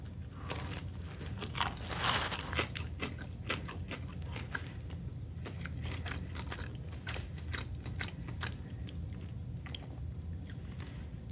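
Crusty homemade sourdough bread, a first loaf from a new starter, being bitten and chewed up close: repeated crunchy crackles and soft chewing sounds in an uneven rhythm with no talking.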